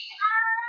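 A pet cat gives a single short, clear meow, close and fairly loud, with nothing else audible.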